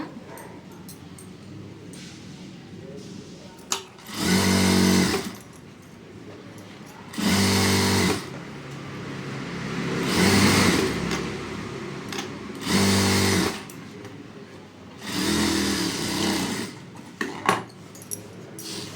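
A sewing machine stitches a blouse in five loud, steady bursts of a few seconds each, separated by short quiet pauses, with no talking.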